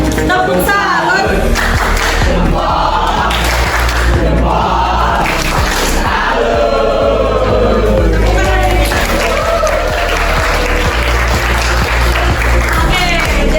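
A classroom of students performs the rhythmic 'tepuk salut' clapping routine, loud and close, with dense patterned claps running throughout and voices chanting along over them.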